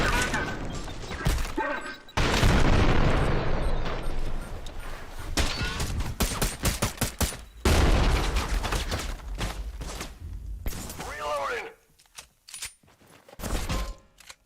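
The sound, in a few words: grenade explosions and gunfire in video game Trepang 2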